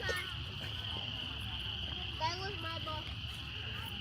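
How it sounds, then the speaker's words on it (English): Frogs call in a Chattanooga park just after rain, a steady high-pitched chorus droning faintly throughout with a few scattered nearer croaks against low background rumble. "you hear all them frogs getting it in"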